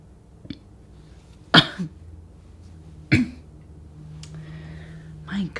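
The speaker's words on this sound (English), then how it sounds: "I have this little cough coming on" A couple of short, sharp coughs a second or so apart, then a softer one near the end, over a faint low hum.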